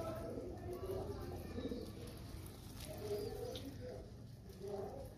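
Pigeons coo in low, soft repeated calls while being fed grain, the burbling sounds rising and falling against steady background noise at a moderate distance.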